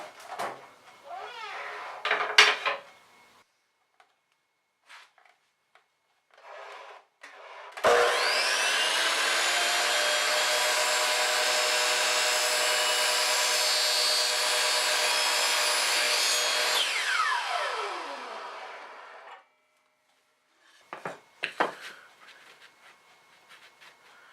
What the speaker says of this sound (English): First thing to do is to miter one end so we can mark off a length.